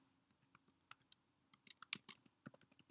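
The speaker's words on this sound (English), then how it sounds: "So in the Who chart, I would type his name, John" Quick, light clicks of typing a name on a computer keyboard, a short scattered burst of keystrokes close up and alone, growing denser toward the end.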